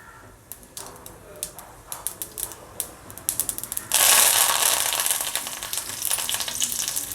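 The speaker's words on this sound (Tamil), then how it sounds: "எண்ணெய் சூடாக எடுத்து நம்ம கடுகு உளுந்து தாளிச்சிக்கலாம்." Mustard seeds and urad dal crackle in hot oil for a spicy ivy gourd fry. Scattered sharp pops come first, then a loud, steady sizzle takes over and runs to the end, with no talking.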